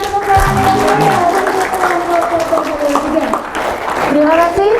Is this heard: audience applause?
yes